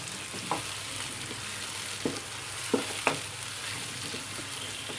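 Tomatoes and chillies with garlic fry in a pan for masala kaleji, giving a continuous bright sizzle broken by a handful of sharp scraping knocks as a spoon stirs the mix.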